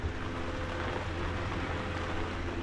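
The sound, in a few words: rain falling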